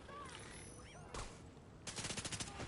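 Gunfire in the video game The Division 2: a short burst of shots near the middle, then a rapid run of automatic fire at the end, with quieter game sounds before it.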